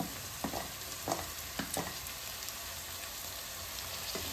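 Chopped capsicum and curry leaves sizzle steadily in a hot pan, a dense, close frying hiss broken by a few sharp crackles and stirring knocks.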